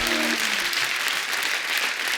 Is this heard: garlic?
no